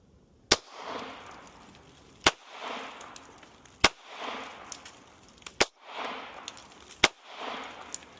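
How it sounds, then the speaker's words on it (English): A Ruger Security 380 pistol fires five Federal Punch rounds, each a sharp, loud crack followed by a short decaying echo, spaced about one to one and a half seconds apart with nothing else heard. "We have the Ruger Security 380. We have 5 rounds of that Federal Hydroshock."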